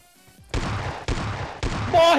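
Gunshots in the mobile battle royale game PUBG Mobile: three sharp, loud shots about half a second apart, followed by a fourth blast, with no talking.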